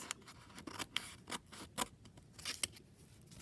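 Scissors snip through the paper sides of a trifold envelope in a quick, uneven series of crisp cuts, close and fairly quiet, with no talking.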